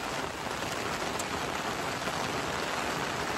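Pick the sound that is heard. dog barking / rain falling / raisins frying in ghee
rain falling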